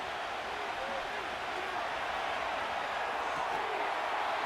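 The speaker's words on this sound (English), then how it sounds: "The Buffalo crowd being heard before 3rd down." Buffalo football stadium crowd before a third down, a broad, steady roar of thousands of fans heard from a distance, even and sustained without distinct cheers or voices standing out.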